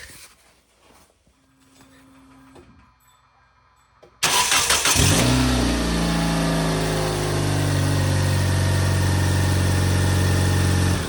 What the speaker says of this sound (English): now we're gonna start the car, see if this works